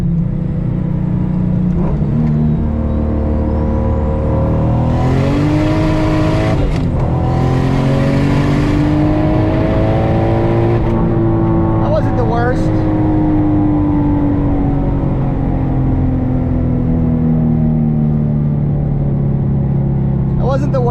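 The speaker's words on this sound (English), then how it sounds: "Let's do a quick little third gear pull." A 650whp Lexus IS300 with a 4.10 differential doing a third gear pull on the street, a loud, sustained engine roar climbing in pitch, with shift breaks and a person talking over it from inside the car.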